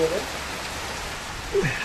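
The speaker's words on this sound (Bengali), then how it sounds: "আর বাইরে বৃষ্টি করছে, ঠান্ডা করে দিচ্ছে। একদম হেভি ঘন বৃষ্টি" Heavy, dense rain outside a kitchen where a clay stove keeps going out, a steady hiss with short snatches of a voice over it.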